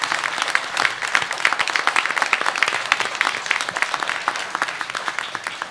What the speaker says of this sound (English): Let's give all three panelists a round of applause.